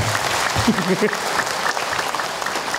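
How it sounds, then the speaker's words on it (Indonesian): Audience applause at an Islamic preaching talk show, a dense burst of clapping from a studio crowd that carries steadily through the whole moment, with a brief voice near the start. "Tepuk tangan buat ibu-ibu yang sabar."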